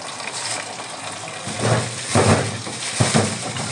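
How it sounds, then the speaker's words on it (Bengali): Water pours into a container to soak fresh apples, a steady close rush that swells louder in bursts toward the end. "আমি এই আপেলগুলো ভিজিয়ে রাখবো।"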